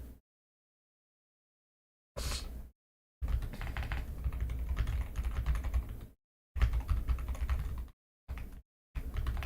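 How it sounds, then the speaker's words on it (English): Bursts of rapid clattering keystrokes on a computer keyboard, separated by stretches of silence, close and fairly loud. "I was chatting, typing to somebody"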